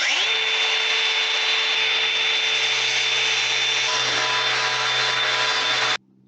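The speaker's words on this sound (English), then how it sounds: "touch up this weld, I'm going to grind it down" An angle grinder steadily grinds down a weld on a Massey Ferguson 231 tractor grille, a loud continuous high whine with a harsh rasp that holds for about six seconds, then stops abruptly.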